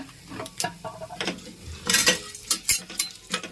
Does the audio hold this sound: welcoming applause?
no